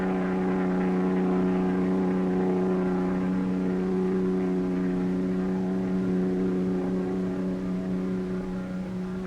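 Austin Healey race car at the Bonneville salt flats, its engine droning steadily at speed with a strong sustained hum, holding constant throughout without any break.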